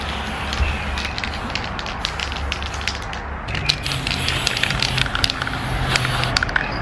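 A car interior is spray-painted blue, giving a loud, continuous aerosol hiss up close, broken by short sputtering bursts as the spray pulses.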